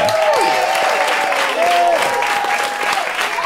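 Live audience at a podcast taping clapping enthusiastically, a dense burst of applause that carries on under whoops and scattered voices throughout.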